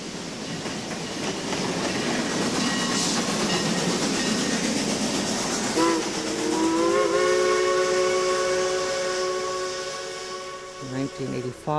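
Whistle of the Porter Mikado No. 5 steam locomotive at Mount Rainier: steady hissing steam builds first, then a loud, sustained multi-tone whistle blast sounds out alone and ends with a few short chopped toots.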